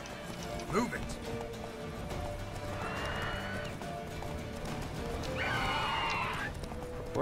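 Horse in The Witcher 3 gallops with continuous hoofbeats amid game ambience, and two drawn-out neighs or whinnies rise clearly over the hooves in the middle and near the end.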